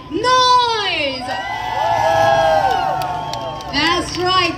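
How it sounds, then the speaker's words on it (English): A crowd at a Christmas event in a shopping mall answers a host with loud cheers, whoops and children's high shouts that rise and fall in waves, close and lively. "Can everyone please give me a big round of applause and make some noise?"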